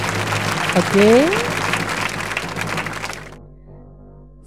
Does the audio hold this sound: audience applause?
yes